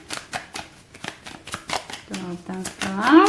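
Tarot cards being shuffled by hand, with a run of quick crisp riffling bursts close by, while a voice talks over them in the second half.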